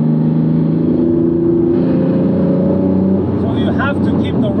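A Porsche 911 restomod by Theon Design revs as it accelerates on the road, a loud, rising engine note from inside the car with someone talking over it.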